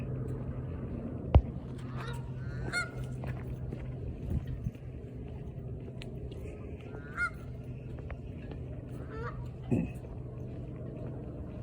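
Geese honk and squawk in short bursts scattered across the scene, fairly near, over a steady low hum of outdoor background noise, with one sharp knock early on.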